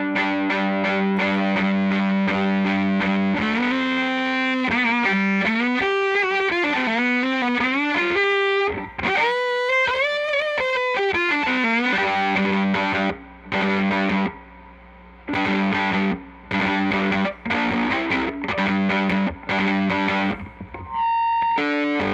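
A violin runs through a Bunnel heavy metal distortion pedal at high gain. It plays loud, buzzy sustained notes, then sliding phrases, then choppy short bursts, with no talking.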